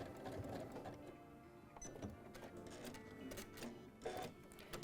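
A Janome sewing machine runs in short bursts of wide zigzag stitching over zipper teeth, its needle clattering rapidly and pausing between runs, close and fairly quiet with no talking.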